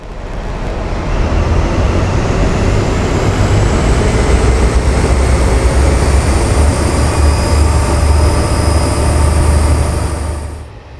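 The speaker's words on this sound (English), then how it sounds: "I'm pretty sure these old sounds are from a Valenta engine" Class 43 HST power car with a Valenta engine in Train Simulator, a loud, steady diesel roar with a deep throb and a high whine, sustained throughout before fading slightly at the end.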